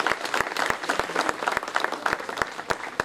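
An audience at an award ceremony applauds, dense rhythmic clapping from many hands, loud and close, continuing steadily throughout.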